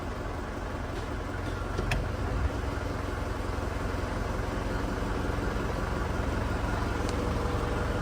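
A 2001 Isuzu Panther LS Turbo with automatic transmission idles steadily as it creeps forward without throttle, a continuous low diesel hum close by with a brief bump near two seconds.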